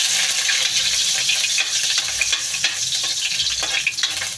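Ginger sizzling in hot oil in a pan, the first step of Filipino adobong pusit (squid adobo), with steady close frying hiss and occasional stirring scrapes throughout, no talking.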